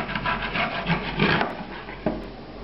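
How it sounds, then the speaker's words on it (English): A utensil scrapes browned bits from a pan after scallops were cooked, deglazing it with sherry; a rough, close rasping and rubbing with short strokes and a couple of brief knocks. "It's going to be deglazed with some sherry. Scrape up all these bits."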